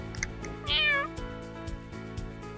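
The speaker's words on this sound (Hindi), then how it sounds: "ये है कैट। कैट को उर्दू में हम बिल्ली कहते हैं।" A single clear cat meow, rising and then falling in pitch, over a steady background of soft music, near and fairly loud.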